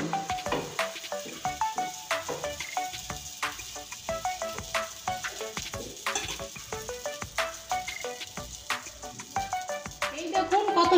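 An egg pancake cooks in a frying pan, sizzling softly beneath a steady run of sharp ticks and clinks of utensils against the pan.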